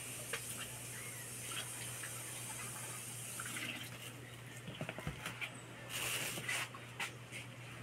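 Tap water runs steadily into a sink while dishes are washed, with occasional clinks and splashes rising near the end over a constant low hum.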